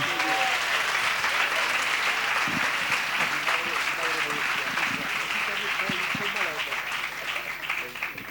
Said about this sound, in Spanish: le recibimos con un aplauso por agradecimiento